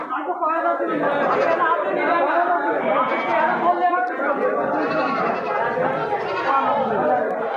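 Goats bleat repeatedly amid a busy crowd of chattering voices at a lively, crowded goat market in Baraha.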